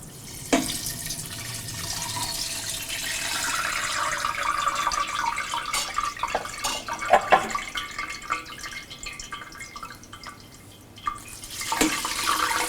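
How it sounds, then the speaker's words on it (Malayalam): Cold water pours and splashes over ada (rice flakes) being rinsed for ada pradhaman, a running, uneven wash of water with occasional louder splashes and drips, heard close and without any talking. "ഇതിനെ 2-3 പ്രാവശ്യം നല്ല തണുത്ത പച്ചവെള്ളം ഒഴിച്ച് കഴുകി ഊറ്റി മാറ്റി വയ്ക്കുക."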